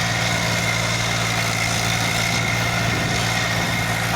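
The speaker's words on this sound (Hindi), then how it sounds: "ये देखिए बारिश के पानी में मिंटी जैक्सन का ट्रैक्टर" An Eicher 380 tractor engine runs in the rain with a loud, steady, low diesel rumble and constant vibration, close by and without pause.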